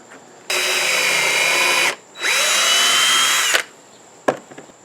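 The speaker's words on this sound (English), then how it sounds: "the best way that I found to make these when working with the 2x2s is to actually pre-drill them first" A power drill pre-drills 2x2 wood boards in two loud, sustained whirring bursts of about a second and a half each, separated by a brief pause and followed by a sharp click.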